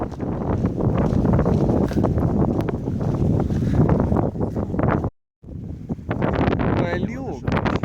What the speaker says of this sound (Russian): Ветер, ничего не слышно будет.